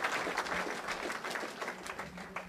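A church congregation claps together in dense, steady applause, close and lively, with faint voices mixed in over a short stretch.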